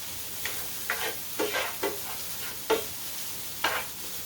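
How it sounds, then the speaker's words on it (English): Frozen vegetables get tossed in a pan of sizzling sofrito for Spanish rice, with about six distinct scraping stirs over a soft, continuous sizzle, close and without talk. "you add them to the sofrito and you toss them around"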